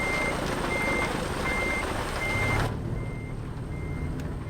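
Reversing beeps from a truck backing up in American Truck Simulator, a steady evenly spaced warning tone over a loud engine rumble that drops away partway through while the beeping continues.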